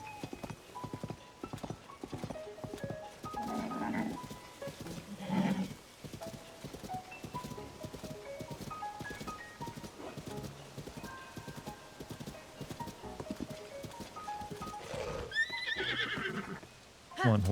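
Horse hooves clip-clop steadily at a trot in Zelda: Tears of the Kingdom, with a couple of loud neighs and whinnies breaking through near and clear, no talk.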